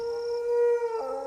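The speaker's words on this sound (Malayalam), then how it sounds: "പട്ടി" A dog gives a single long, mournful howl, a steady sustained tone that dips in pitch near the end, fairly faint and heard alone without any talking.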